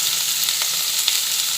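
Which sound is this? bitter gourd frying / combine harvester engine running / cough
bitter gourd frying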